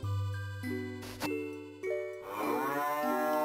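Cattle mooing in the farming video game Harvest Moon, a few sustained low moos in sequence with a bright jingling chime midway, loud and close with no voices.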